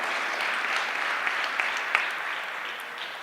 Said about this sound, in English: I think you can all clap your hands for yourselves that you have done an amazing work.